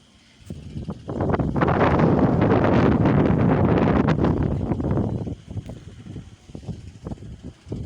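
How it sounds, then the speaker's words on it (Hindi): Wind blowing outdoors in a village park around sunset, a strong, steady gusting rush that buffets the microphone for several seconds, then eases into softer, intermittent rustles. "बहुत ही प्यारी हवा चल रही है"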